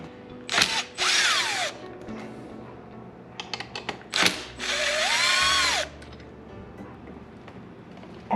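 On a Yamaha MT07, a power drill backs out tail light bolts in two bursts of high whirring, each sliding in pitch as the bolt loosens, with clicks and small handling knocks between.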